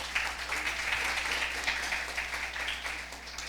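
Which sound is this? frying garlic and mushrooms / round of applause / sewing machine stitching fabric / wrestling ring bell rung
round of applause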